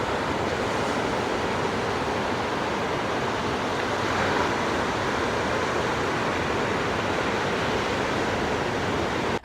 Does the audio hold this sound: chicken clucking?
no